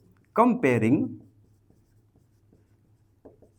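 A pen writes on paper while a Class 10 maths problem on linear equations is worked out. A short vocal sound comes first, then faint, sparse scratching strokes follow in a quiet room.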